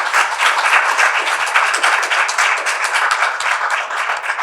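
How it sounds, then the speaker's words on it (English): Loud, close applause from an audience celebrating graduates at a leadership program graduation, with sharp individual claps forming a continuous, energetic patter throughout. "a big, big applause for our graduates"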